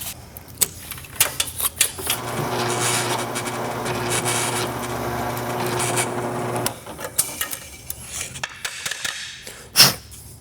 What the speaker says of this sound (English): I have a 3/8 Forstner bit, and we're gonna head back to the drill press